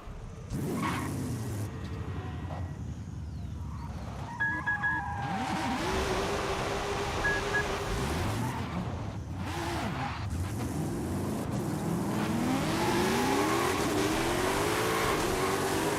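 Toyota Camry in Forza Horizon 5 revving and accelerating, engine pitch sweeping up and down through gear changes with brief tire squeal, loud and close throughout.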